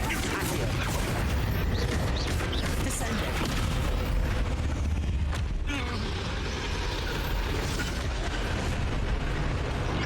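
Bombarda blasting spell cast in the game Hogwarts Legacy, a dense roaring burst of explosions and magic effects filling the whole stretch, loud and continuous, with a voice faintly under it.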